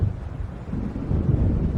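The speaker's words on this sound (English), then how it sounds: "It seems there's a storm coming." Storm wind blowing over open water in the Alan Wake game, a steady, loud low rumble with gusts and no distinct thunderclap, no voices.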